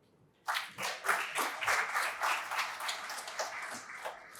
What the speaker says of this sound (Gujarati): પુનઃ તાળીઓથી વધાવીએ.